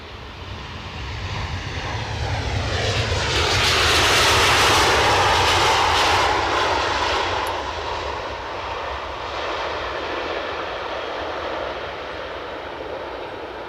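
A Scandinavian airliner departs Edinburgh airport in wet, blustery weather, its engine roar swelling to a loud peak around mid-clip and then holding steady as it climbs away, with no one talking.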